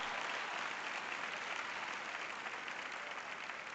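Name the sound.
three people applauding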